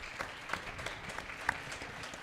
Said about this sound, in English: let's give a round of applause one last time for your reigning Midwest Rubber 2023